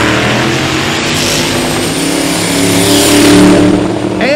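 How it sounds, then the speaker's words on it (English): A Divco milk truck with a twin-turbo big-block engine roars down a drag strip at Drag Week 2021, its loud, close, continuous engine note building and surging toward the end with no talk. "Twin turbo big block in the truck. The milk truck goes."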